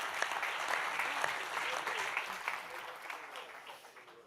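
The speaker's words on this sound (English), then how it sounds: "a massive round of applause" An audience at a museum live-streamed session gives a round of applause, a steady moderate wash of clapping that gradually tapers off.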